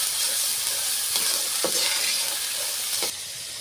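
Masala spice paste frying and being stirred in a pan, a steady sizzle filling the background with a few scraping strokes of a spoon, close and alone without voices.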